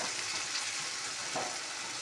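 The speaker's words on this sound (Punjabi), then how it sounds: "ਚਲੋ ਜੀ ਤੜਕਾ ਭੁੱਜ ਜਵੇ" Tadka of cumin, salt and chili frying in hot oil, a steady close sizzle that holds at an even level throughout with no talk.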